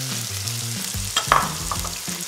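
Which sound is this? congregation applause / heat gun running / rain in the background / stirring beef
stirring beef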